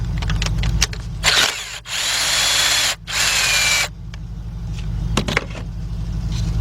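A power tool unbolting a bolt in the engine bay of a Hyundai, with two sustained bursts of drilling close by and brief mechanical clicks and clatter around them.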